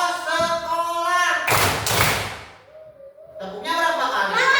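Schoolchildren in a classroom clap twice in unison, a short pair of sharp claps between stretches of a teacher and children talking.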